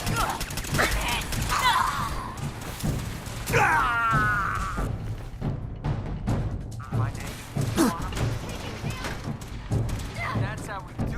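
Gunfire from a firefight in the video game Fallout 4, bursts of shots and thumps scattered across the clip, mixed with game voices and grunts, fairly loud and busy.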